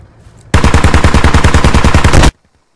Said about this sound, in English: Heard M4.